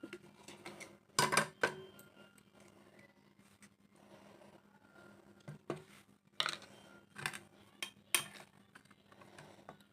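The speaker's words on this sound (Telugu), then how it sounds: "బటర్ అయితే ఇట్లా స్ప్రెడ్ చేసుకొని మంచిగా స్ప్రెడ్ చేసుకోవాలి." Butter is spread around a cake pan with a utensil, producing scattered scraping and metallic clinks of varying loudness, some sharp taps standing out against a quiet background.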